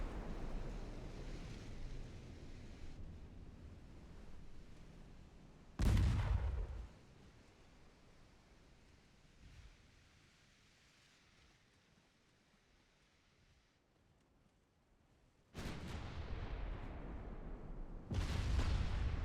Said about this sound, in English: Don't save on the main guns. Shoot at him.